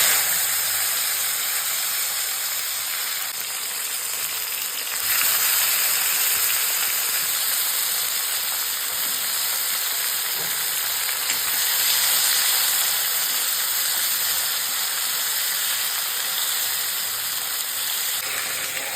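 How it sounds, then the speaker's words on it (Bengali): Potatoes fry in a pan with a continuous broad hiss and crackle that swells slightly in places and runs unbroken for the whole stretch, with no speech. "এগুলো এখন ভাজা চলছে, একটু লাল লাল হয়ে উঠলে আলুগুলো"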